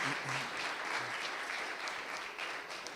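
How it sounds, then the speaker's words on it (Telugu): A church congregation at Sunday worship claps together loudly in a dense, continuous round of applause, with a few voices faintly audible underneath. "ఒకసారి అందరు గట్టిగా చప్పట్లు కొడదాం."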